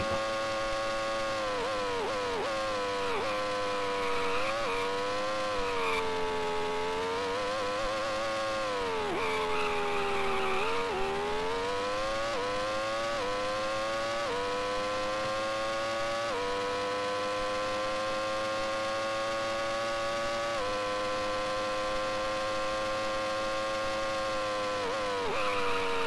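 Formula One race car engine in the Amiga game Formula One Grand Prix, a steady buzzing synthesized drone whose pitch rises and dips with gear changes, continuous and alone throughout.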